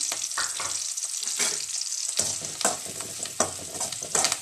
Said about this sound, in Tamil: சின்ன வெங்காயம் சேர்த்துட்டு நல்லா மிக்ஸ் பண்ணி விட்டுக்கலாம்